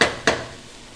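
Sliced onion stirred in a hot pan while caramelizing, giving two sharp utensil scrapes against the pan close by, followed by a faint, steady background hiss.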